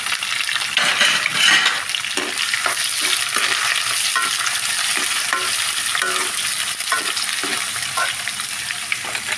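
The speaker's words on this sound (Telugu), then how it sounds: "అల్లం వెల్లుల్లి వేస్తున్నానండి." Ginger and garlic frying with curry leaves in a pan for a chicken curry: a loud, continuous sizzle with repeated stirring scrapes of a utensil against the pan.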